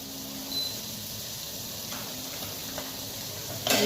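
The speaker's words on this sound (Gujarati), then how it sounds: "આપણે આ રીતે વઘારવાનું છે તેલમાં સાતરવાનું છે" Okra sautés in hot oil with spices, a faint, steady sizzling hiss with a few soft ticks and a small clink near the end.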